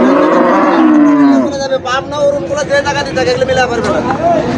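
Cattle bought for sale at a Bangladeshi cattle market moo loudly and close, one long low call followed by shorter lowing, with crowd chatter and someone talking throughout.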